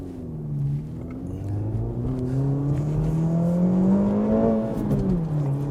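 An Acura Integra Type S engine climbs through the revs toward its 7,000 RPM redline, a rising, smooth mechanical whine heard from inside the car, sustained and steady before easing off near the end, with no voices.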